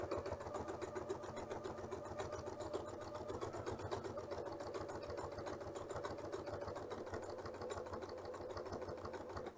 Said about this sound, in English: I can start sewing down the line and making sure that I'm right on the edge